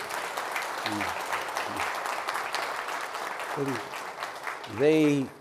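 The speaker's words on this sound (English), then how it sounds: "if we can give them both a round of applause please" An audience at a Post Office leadership event applauds steadily, with dense clapping throughout that swells louder near the end while a few voices speak over it.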